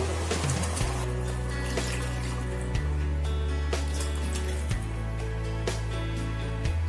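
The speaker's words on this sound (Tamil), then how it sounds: "அதனால நம்ம 4 கப் தண்ணி சேர்க்க போறோம்." Water poured from a cup into raw rice for chickpea (chana) biryani, a steady trickling fill heard up close, in several separate pours with short breaks between them and no talking.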